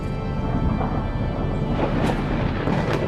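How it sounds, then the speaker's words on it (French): Thunder rolls as a continuous deep, loud rumble with crackling texture, steady throughout with no pause or talk, in a French short film about a queen and the rain. "Le tonnerre gronda des jours et des nuits."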